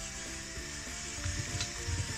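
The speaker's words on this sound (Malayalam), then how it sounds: "കുറേശ്ശെ ഒഴിച്ചിട്ടാണ് വറുത്തെടുക്കുന്നത്." Onions frying in oil for chicken biryani, a steady close sizzle with stirring scrapes and bubbling bursts near the end, no voices.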